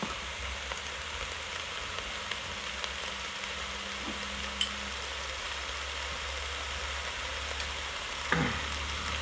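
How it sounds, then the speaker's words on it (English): Onion and garlic frying in a pan for a Thai chicken curry, a steady soft sizzle running throughout with a few faint clicks of the stirring utensil, quiet and without talk. "we're gonna just mix it around a little bit. Get all that onion and garlic around that."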